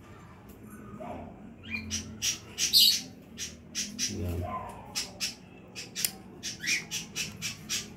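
Outdoor birds squawk and chirp in a run of short, sharp calls, fairly close, with brief gaps between them and a faint low background hum.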